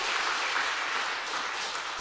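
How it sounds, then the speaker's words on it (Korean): Steady applause from a church congregation fills a Sunday afternoon service, dense and sustained throughout, with no voices over it. "박수 한번 해주세요"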